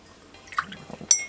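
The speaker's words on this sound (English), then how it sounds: "Rinse off the brush there." A paintbrush is rinsed in a water cup while painting miniatures, giving a few brief, close liquid swishes and drips followed by a light clink of the brush against glass.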